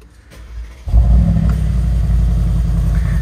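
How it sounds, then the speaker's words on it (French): Mansory Viva Edition supercar engine cranking and firing into a deep, loud, steady idle rumble, heard close with no talking. "Et on va même le démarrer parce que il fait normalement un petit bruit sympa."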